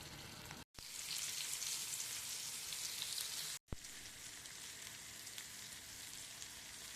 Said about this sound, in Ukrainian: Невеликі за розміром фрикадельки панірую в борошні та з усіх сторін обсмажую на вершковому маслі до рум'яної скоринки